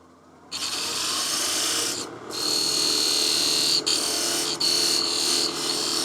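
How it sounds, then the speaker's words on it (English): A skew chisel takes a slicing cut across the end grain of wood spinning on a lathe while turning a salt and pepper mill. It gives a loud, continuous close-up hiss and rasp with a brief break and a few short dips. "I can use the skew to get in there and get a nice slicing cut and clean up the end grain fibers."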